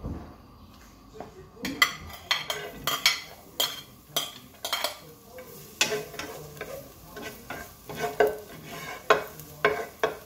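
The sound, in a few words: garlic frying in a pan with sardines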